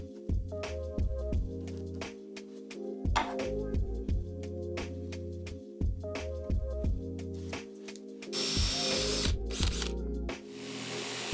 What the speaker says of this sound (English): I cut the hole with the jigsaw and then I fine-tuned it with a file